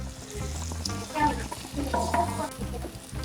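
Steak sizzling and frying on a hot BBQ island grill at high temperature, a steady crackling hiss with louder bursts, close by, with no talking over it.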